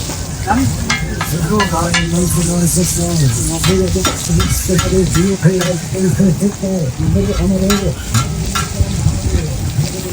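Fish frying in oil at a riverside food stall on the Padma at Mawa, with a loud, steady sizzle and stirring scrapes throughout and faint voices in the background.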